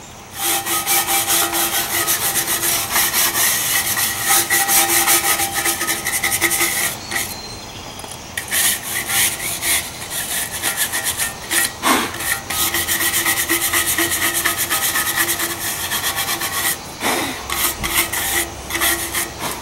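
Rusty cast iron treated with apple vinegar is scrubbed hard and continuously, a loud close rasping rub in quick back-and-forth strokes with a few brief pauses.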